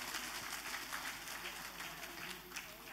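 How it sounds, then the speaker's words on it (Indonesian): A crowd at a Democratic Party convention gives a sustained round of applause, dense and fairly distant, heard faintly under a voice that continues over it. "Mari kita beri tepuk tangan kepada Bapak Ibu sekalian."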